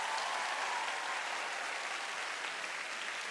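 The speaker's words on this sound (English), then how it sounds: "Give them a round of applause." Applause from a television studio audience on a masked dance competition show, a dense, steady wash of clapping that fills the whole stretch at even loudness, with no voices standing out.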